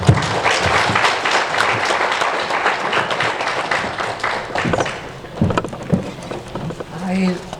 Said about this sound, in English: a huge round of applause for Dr. Sekai Nzenza, the Minister of Industry and Commerce